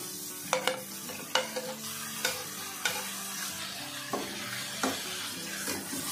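Tomatoes are stirred into frying mutton, with a steady sizzle under repeated clacking spoon scrapes against the pot at an irregular, unhurried rhythm, close by and without voices.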